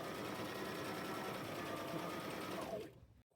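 Serger stitching a gathered edge on sheet fabric, a fast steady motor whir running continuously, then winding down and stopping near the end.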